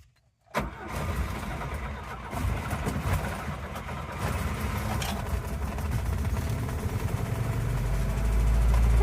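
A Volvo car's engine, left unused for about a week, cranks and catches after a brief silence, then settles into a steady, loud idle that swells slightly toward the end.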